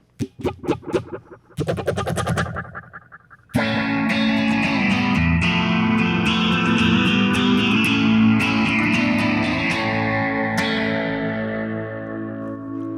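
Electric guitar played through a full chain of effects pedals with no reverb, distorted and modulated, opening with a few choppy plucked notes before swelling into a loud, sustained, shimmering wash of layered tones that slowly fades near the end.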